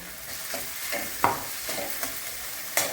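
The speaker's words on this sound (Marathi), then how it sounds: "भाजले की जरा पण येतो त्यामुळे आपण थोडे भाजून घ्यायचे जरा तुपामध्ये" Sago pearls roast in ghee for a sweet kheer, giving a soft, steady sizzle broken by a few sharper scrapes and clicks of stirring, close and moderately quiet with no talk.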